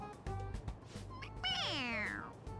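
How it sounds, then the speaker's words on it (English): A Morgana stuffed toy from the video game Persona 5 gives a loud, close electronic meow when its head is pressed, a single drawn-out call that bends downward in pitch and fades. "It meows when you press on its head."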